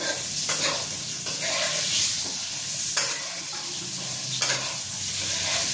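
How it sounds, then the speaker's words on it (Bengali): Potato pieces seasoned with turmeric and salt fry in a pan, a steady sizzle running throughout while a spatula stirs and scrapes at intervals, with a few sharper clacks and no talking. "আলুটা আমি একটুখানি লাল লাল করে ভেজে আলুটাকে তুলে নেব"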